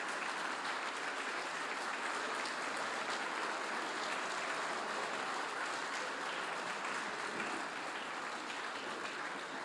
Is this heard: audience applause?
yes